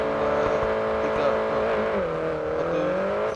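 A small car in the racing game Grid Autosport accelerates hard from a standstill toward 100 km/h, its engine note rising steadily in pitch through the gears, loud and continuous with a brief dip as it shifts.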